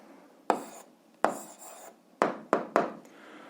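A pen writes down an answer to an algebra exercise, with five short scratchy strokes on paper, close and distinct, separated by brief pauses.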